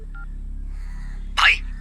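A phone in a Hindi-dubbed South Indian film gives short electronic tones, then a brief, brighter chirp near the end, heard alone over a low hum with no one speaking.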